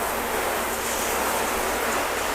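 Water sprayed steadily onto a ceramic-coated car panel hisses as a continuous, broadband wash of spray, loud and close, with no voices over it.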